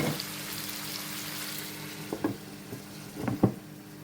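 Hake fish frying in a pan, a constant crackling sizzle with a few soft clinks and stirring scrapes toward the end.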